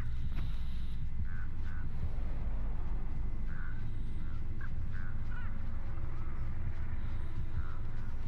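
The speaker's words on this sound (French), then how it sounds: "T'as des corbeaux tellement t'as campé." Crows caw in the Dead by Daylight video game, a handful of short, mid-distance calls scattered over a low, steady ambient rumble with no talking.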